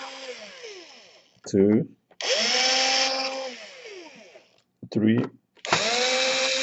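A power screwdriver whirs in several long, loud bursts, rising and falling in pitch as it removes screws from an Asus K53E laptop during a DC power jack repair, with a man counting aloud between bursts.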